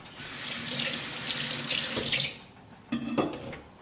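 A kitchen tap runs in a steady hiss into the sink while a chef's knife is washed after sharpening, close and continuous, then a short clatter and splash as the flow breaks near the end.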